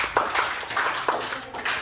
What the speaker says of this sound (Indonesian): Oke, tepuk tangan sama Judika.